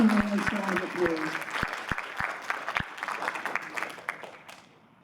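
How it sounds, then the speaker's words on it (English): Audience applause at a school board of education meeting, a burst of clapping from a room of people that starts strong and gradually thins out, fading to near quiet by the end. "Give him a nice round of applause."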